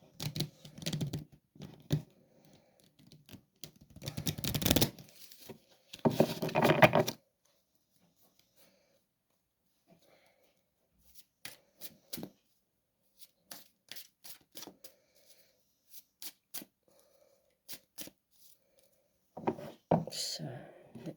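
Several bursts of oracle card shuffling, a riffle-like rattle repeated a few times with quiet gaps and light handling clicks between, close and moderately loud.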